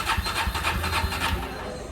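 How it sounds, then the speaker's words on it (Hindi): A motorcycle with a petrol leak is cranked in an attempted cold start in freezing Manali weather, giving fast rhythmic churning pulses at close range that never settle into a running engine. "अब हम कर रहे हैं बाइक को कूल स्टार्ट"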